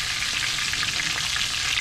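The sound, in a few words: triggerfish frying in a skillet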